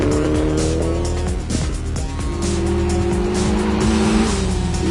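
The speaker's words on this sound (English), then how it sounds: "Nick Box would push hard in his Evo, setting top 6 times" A Mitsubishi Evo rally car is driven hard on a Western Australian forest stage at RallyWA 2010, its engine roaring loud and close. Revs rise and fall through the gear changes and tyres scrabble on the surface, with no pause in the noise.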